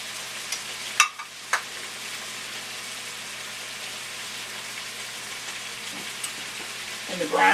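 Steak browning in a frying pan for pepper steak, a steady soft sizzle running throughout with a few brief clinks and stirring bumps near the start and end.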